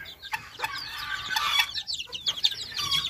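Chickens cluck repeatedly in a small poultry lot, sharp close calls coming in irregular bursts over a quiet background with no talking.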